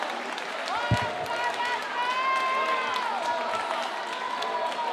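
A church congregation claps and praises during worship, a dense, steady patter of applause heard at moderate distance beneath overlapping voices and prolonged vocal tones, with one sharp thump near the start.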